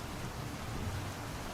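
Rain in the game GodSIM, a constant soft hiss of falling water with a low rumbling undertone, steady and moderately quiet throughout.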